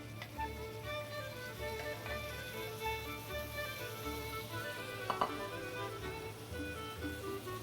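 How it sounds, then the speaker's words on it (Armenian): Eggplant and onions frying in a pan give a steady, close sizzle with soft crackle and a faint clink near the middle, with no talking. "սոխի այս աստիճանում տապակման ավելացնենք նաև սմբուկը, թող տապակվի"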